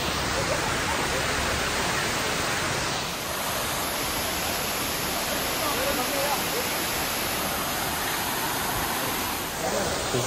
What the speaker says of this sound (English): Here's Baman Budo waterfall for you guys.